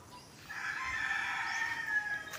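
A rooster crows once at a distance, faint but clear against a quiet outdoor background.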